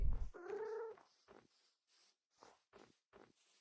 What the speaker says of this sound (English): It's another cat.